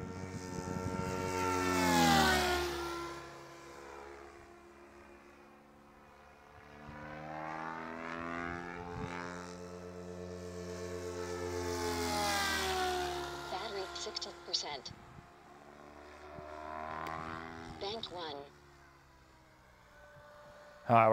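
RC helicopter flying with its rotor head spinning near 2200 RPM, a sweeping whine that swells and fades as it passes at varying distance, with the drone rising and dipping over the flight.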